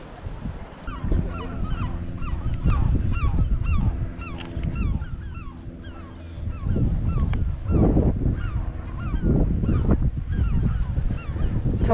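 Seagulls call repeatedly in loud, harsh cries, many overlapping, with wind gusting against the microphone, at the seaside cliffs of Étretat, France.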